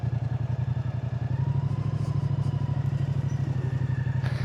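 A motorcycle engine runs close by with a steady, rapid low pulsing idle, loud and even throughout, ending with a slight rise near the end.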